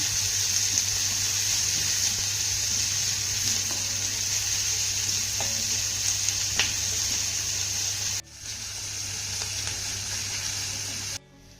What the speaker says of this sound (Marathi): आता हा कांदा आपल्याला छान असा मौसूक होईपर्यंत परतून घ्यायचा आहे